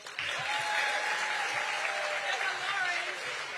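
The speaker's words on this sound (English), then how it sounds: "Please give a round of applause to our mayor, Mayor Muriel Bowser." Audience applause at a school dedication ceremony as the mayor of Washington, D.C. is welcomed up, steady moderate clapping with a few voices and cheers mixed in, continuous from start to finish.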